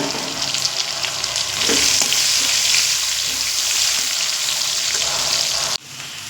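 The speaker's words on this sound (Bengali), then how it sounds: "দেখুন পেঁয়াজ আমি লাল লাল করে ভেজে নিয়েছি" Onions sizzle and crackle steadily in hot oil, loud and close, with occasional stirring scrapes, before the sizzle drops suddenly near the end.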